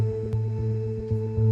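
A sustained synth pad from the Elysion sound design library, holding steady layered tones with a soft pulsing swell, playing alone at moderate level.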